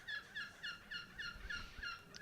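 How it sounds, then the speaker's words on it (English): Seagulls call at a County Championship cricket ground during Warwickshire versus Kent, a run of about six quick, faint, evenly spaced squawks at a distance. "The Midland Seagulls are just beginning to get active, as you can hear."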